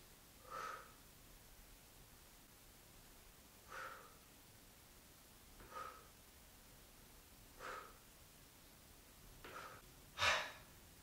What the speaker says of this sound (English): Breathing heavy, so that's a tough workout.